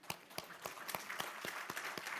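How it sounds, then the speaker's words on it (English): A small audience at an economic forum gives brief, sparse applause: individual distinct claps at an even rhythm, heard from the room at moderate distance. "we should well deserve the round of applause for each other"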